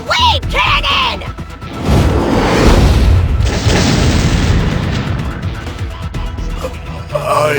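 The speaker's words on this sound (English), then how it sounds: "Secret technique of the Makishima style! Naughty Nandi Kesvara's sparkling wave cannon!" A special attack technique explodes in an anime-style video game battle, a loud sustained booming blast with crackling bursts that rolls on for several seconds after a brief stretch of game voice.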